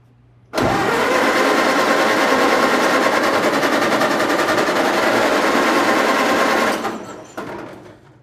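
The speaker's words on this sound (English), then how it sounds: "I'm gonna give it a crank and I'll just lop some fuel in there." A 1930 Ford Model A sedan engine cranks and catches almost at once, then runs loud and steady with a rapid even beat for about six seconds before cutting out, followed by a brief sputter.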